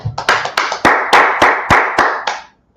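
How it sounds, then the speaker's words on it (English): A small class audience claps in a short burst of roughly eight sharp, evenly spaced claps, close and fairly loud, before stopping cleanly. "Let's clap it up."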